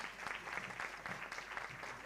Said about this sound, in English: Now let's give them a better round of applause.